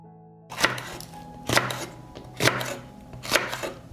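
Four evenly spaced knife chops on a cutting board, garlic and hot peppers being cut, close and distinct with short pauses between strikes.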